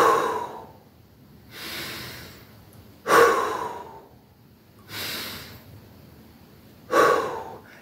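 Slow, deep guided breathing, close and audible, with alternating inhales and exhales in a steady rhythm of about four breaths, each a soft rushing of air, with no talk.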